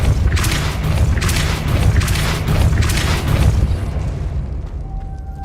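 Depulso force spell cast in the video game Hogwarts Legacy, a loud, sustained booming burst with rumbling low end and crackling texture that slowly tapers off toward the end.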